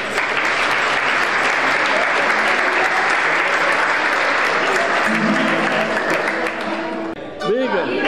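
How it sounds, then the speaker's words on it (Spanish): An audience at a Canarian parranda folk performance at a Canary Islands cultural centre in Alicante claps in a dense, sustained burst of applause that fades after several seconds, followed by a brief spoken voice. "Fuerte aplauso para aquí"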